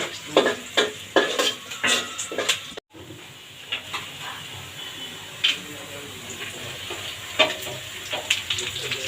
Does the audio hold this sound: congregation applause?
no